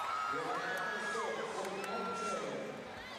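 Crowd at Auburn Arena cheering during a women's college gymnastics meet, with sustained shouts, whoops and high-pitched screams filling the arena and fading slightly toward the end.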